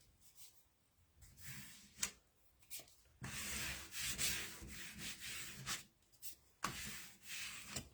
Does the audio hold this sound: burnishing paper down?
yes